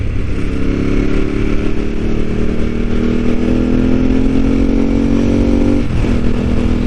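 A Ducati 748R motorcycle being ridden, its engine droning steadily and loudly up close with rising pitch as it accelerates, plus wind rush and a brief dip near the end as it shifts gear.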